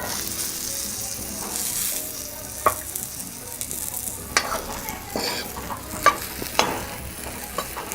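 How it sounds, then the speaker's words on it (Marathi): Stuffed brinjals sautéed in masala in a pan give off a continuous low sizzle, broken by scattered clinks and scrapes of a stirring spoon, close and moderately loud, with no one speaking. "एक मिनिट परतवत राहायची आणि लक्षात असू द्या अशीच हे वांगी सोडून द्यायचे नाही"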